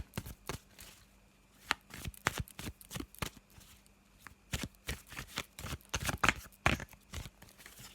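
A tarot deck, the black and white Faulkner deck, being shuffled by hand: a long run of crisp, close card riffles and slaps in uneven bursts, some louder than others, with no talking.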